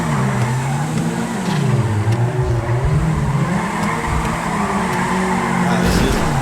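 In the video game GTA Online, a drifting car revs loudly with a wavering engine note and squealing tires as it slides, while a person talks over the noise.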